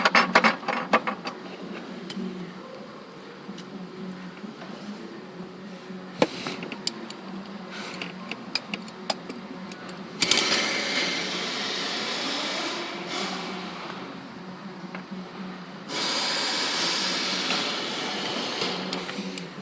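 Nuts are tightened while a battery is replaced in a Mercedes ML, with rapid clicking and ticking followed by two longer stretches of steady mechanical whirring at moderate volume, with no talking.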